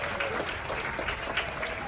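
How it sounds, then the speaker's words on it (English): Cruise ship waiters aboard Anthem of the Seas get a short burst of continuous crowd applause from a dining room audience, even and loud with scattered whoops. "How about a huge round of applause for your waiters"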